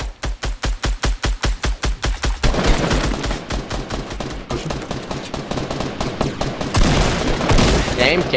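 Rapid gunfire in a Fortnite Battle Royale duos match on Xbox One, starting as an evenly spaced string of loud shots and then breaking into dense overlapping bursts and sustained automatic fire, close and loud throughout.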